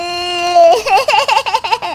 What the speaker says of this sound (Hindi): अरे बेटा, ये बच्चे के रोने की आवाज कहाँ से आ रही है?